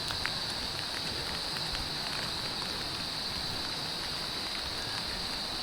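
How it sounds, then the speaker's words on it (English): Rain falls steadily on a walk toward a perimeter street in Angeles City, Philippines, a faint, even hiss with scattered drops pattering nearby and no voices. "It's raining."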